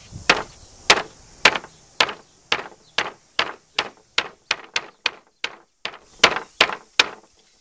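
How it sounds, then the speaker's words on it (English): Repeated sharp hammer blows on a styrofoam prop land in a steady rhythm, about fifteen dull knocks, close and fairly loud with no voices. "So taking a hammer to it"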